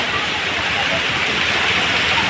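A downpour of heavy rain in Chhapi village makes a continuous, uniform rushing hiss, close and steady for the short stretch without pauses or voices.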